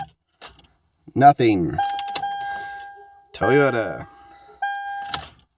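2008 Toyota Tundra with a 5.7L iForce V8 has its key turned while the starter only clicks without engaging: a few sharp, brief clicks under a steady dashboard chime, with someone talking between attempts.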